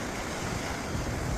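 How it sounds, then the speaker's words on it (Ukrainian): Rough sea waves wash onto a beach on Crete in a continuous loud roar of surf, mixed with wind rumble on the microphone and no voices. "Сьогодні море не дуже спокійне."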